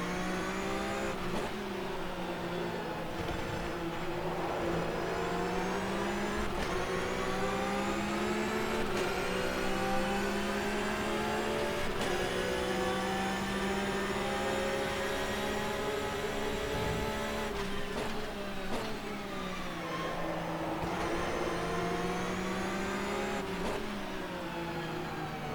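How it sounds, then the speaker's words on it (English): A flat-six race car engine from the Enduracers mod in rFactor 2 at Palm Springs drones loud and steady, rising and falling through gear changes as it accelerates out of corners, with no voices. "Turn the car in there in that corner, let it set, and then just mash the gas."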